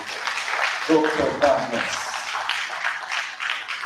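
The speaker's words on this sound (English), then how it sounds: "let's give a round of applause to" A seminar audience claps in a steady, moderate burst of applause while someone speaks a short introduction over it.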